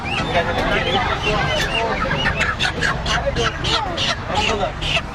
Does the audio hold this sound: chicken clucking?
yes